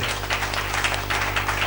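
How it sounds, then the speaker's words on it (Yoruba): A church congregation clapping for Jesus in steady, dense applause over a low sustained hum, close and continuous for a short burst. "Pàtẹ́wọ́ fún Jésù olùgbàlà"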